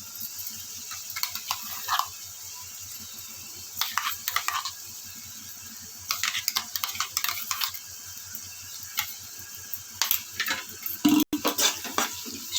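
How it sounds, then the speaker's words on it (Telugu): Ground onion-chili paste fries on low heat in a pan for Andhra-style spinach curry, with a steady soft sizzle and repeated scraping, stirring strokes against the pan, close and without talk. "స్టవ్ సిమ్లో పెట్టి బాగా వేయించుకోవాలి బాగా వేగే వరకు"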